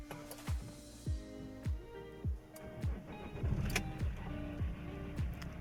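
Alfa Romeo 159 being started with the key: a series of sharp, rhythmic cranking pulses, then the engine catches and settles into a steady, close idle.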